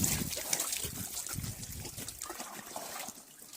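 Water trickles and splashes steadily as animals are bathed to cool them in hot summer weather, a close, continuous wet pouring sound.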